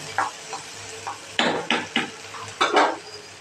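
Mushrooms with spice powder sauté in oil in a pan, stirred with a spatula that makes several distinct scraping strokes in uneven rhythm over a low background sizzle.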